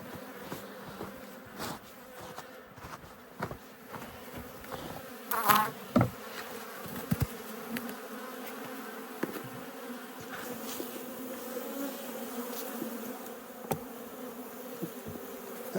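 Honeybees drone steadily in an open hive during a March cluster check, a dense, continuous close-up buzz with occasional louder individual bees passing near and small handling knocks.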